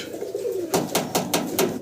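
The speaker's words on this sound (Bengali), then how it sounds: "আপনাদের দর্শকরা জার্মান মডার্না কবুতর দেখতেছেন" German Modena pigeons cooing in a fancy pigeon loft, a soft low murmur followed by several loud, regular cooing bursts close by.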